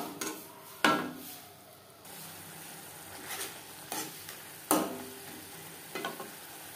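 Mutton fat with ground onion, tomato and garlic paste in a pan, a soft low sizzle broken by a few sharp clinks and scrapes of stirring.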